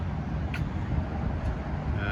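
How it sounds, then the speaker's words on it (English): Steady roadway traffic drones outside a train museum in Ogden, Utah, a continuous low rumble of passing cars with faint wind, heard from a distance without distinct vehicles standing out. "That's a lot of traffic."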